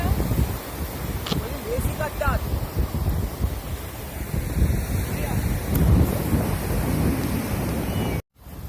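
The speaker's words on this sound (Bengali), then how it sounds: "প্রচণ্ড ঢেউ দিচ্ছে" Strong ocean waves on a Goa beach, a loud, continuous rumbling surf with heavy wind buffeting the microphone, cutting off abruptly near the end.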